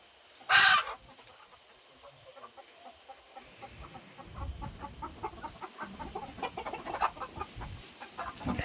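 Chickens in a coop cluck in steady, overlapping bursts at a moderate distance, after a single sharp, loud squawk near the start.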